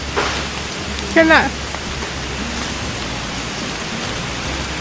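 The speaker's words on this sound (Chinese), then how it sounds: "狂风暴雨的前奏" Heavy rain hisses down steadily at a campsite in the Kuala Lumpur countryside ahead of a storm, a dense, constant wash close by, with one brief startled voice exclaiming early on.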